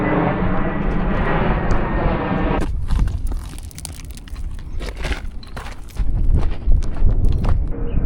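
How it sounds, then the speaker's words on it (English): An airplane flying overhead above a city hiking trail, a broad droning roar that holds for a few seconds then breaks into scattered crunching footsteps and rustling, with the rumble swelling again near the end. "And another plane."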